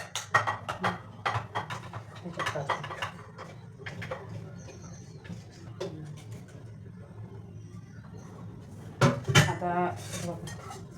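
Metal pots and utensils clatter and scrape as cooked sago pearls for khichdi are scooped into a large pot, a run of sharp clinks and knocks, some close and loud, with a voice talking between them.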